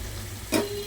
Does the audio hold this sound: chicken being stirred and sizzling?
yes